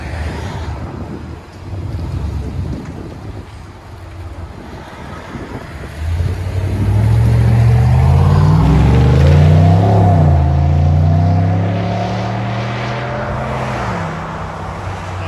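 A GMC Sierra 6.2L V8 pickup running an aftermarket Borla ATAK or Flowmaster Super 10 exhaust idles with wind noise, then revs hard several times. The rising and falling engine roar is loud and close, with no talk over it.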